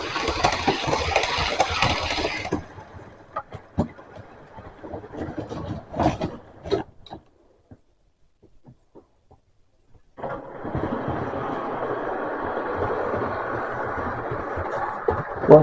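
A model railway train running on its track, a steady close whir and rattle that fades into near silence with scattered clicks, then resumes as a continuous mechanical hum.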